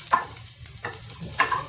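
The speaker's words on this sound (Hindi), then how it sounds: "अभी लहसुन को पकाएंगे" Garlic and onion fry in hot oil for a pea nimona curry, a steady close sizzle broken by a few sharp stirring scrapes.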